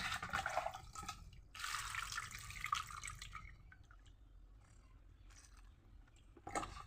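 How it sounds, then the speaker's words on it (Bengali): Chopped taro leaves being rubbed and scrubbed by hand in water, giving bursts of wet sloshing and squelching with drips in between, close and fairly quiet. "এখন আমি এদের ভালো করে জল দিয়ে ডলে ডলে ডলে ডলে স্নান করাই নেব"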